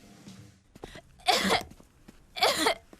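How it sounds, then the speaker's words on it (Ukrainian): Two harsh, explosive coughs about a second apart, close and loud, with quiet breathing and small throat sounds between them. "Погуляв з друзями і почав кашляти."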